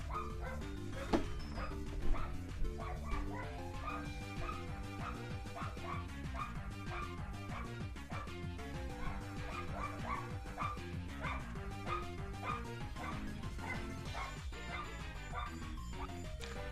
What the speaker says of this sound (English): that's why my dog was barking